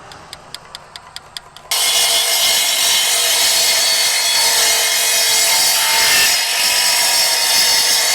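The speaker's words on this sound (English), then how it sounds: "You can get concrete saws that are meant for this. I just put concrete blades on this." A power saw fitted with a concrete blade cuts Versetta stone on a barndominium, a loud continuous grinding whine after a few faint rhythmic clicks, sustained close up without talk.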